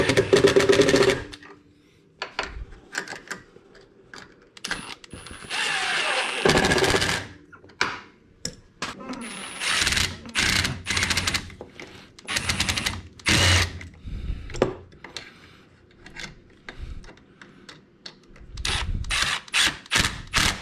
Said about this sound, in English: There is one spot that I'm going to drill some holes